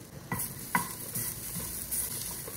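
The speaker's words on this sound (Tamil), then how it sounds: "இப்போ இது தேங்காய் கொஞ்சம் கலர் சேஞ்ச் ஆகிற அளவுக்கு வறுத்துக்கோங்க" Star anise, cardamom, a piece of cinnamon, grated coconut and cashews dry-roasting in a pan, with soft sizzling and a few scraping stirs of a spatula over a short stretch.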